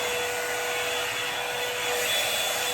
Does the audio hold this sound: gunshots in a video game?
no